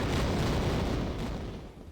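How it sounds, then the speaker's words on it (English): A loud, sustained explosion rumbles through the whole moment in the 1996 Tomb Raider video game, a dense boom whose roar slowly fades. "And that explosion hurts."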